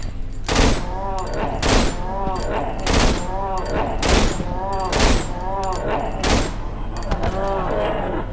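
Repeated loud gunshots from a gun in the horror game Cry of Fear, about seven sharp reports spaced roughly a second apart, each with a ringing tail over a low rumbling background.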